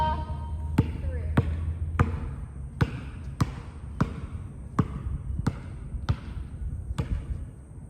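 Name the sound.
basketball dribbled between the legs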